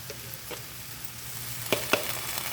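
Ginger garlic paste sizzles faintly in a hot pan, a soft steady crackle with a few brief scraping stirs near the end, no voices.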